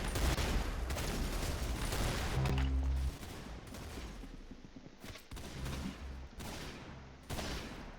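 Gunfire in a Roblox shooting game, with loud rapid bursts of automatic fire and separate shots in several clusters, broken by short pauses.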